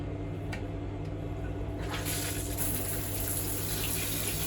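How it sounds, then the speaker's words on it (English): A basic hotel shower head runs steadily after being turned on, giving a constant hiss of falling water that is moderately close and swells slightly partway through, with no voices. "turn it and it comes on. Like the further around you turn it, the hotter the water gets."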